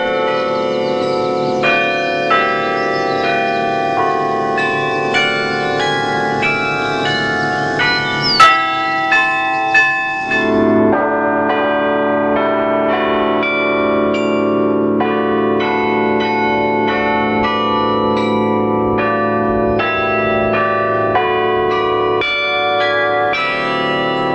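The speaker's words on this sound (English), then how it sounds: "a carillon of 47 bells dedicated in 1937" Carillon of 47 church bells at Luray Caverns, dedicated in 1937 and totaling 36,000 pounds, ringing a steady melody of overlapping bright tolls with long sustaining tones, loud and continuous with no talk.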